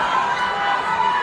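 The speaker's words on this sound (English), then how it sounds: "as you can hear the crowd getting involved." Football crowd at Scunthorpe United versus Dorking Wanderers, a broad, steady roar of cheering and shouting from the stands that carries through a short moment without a break.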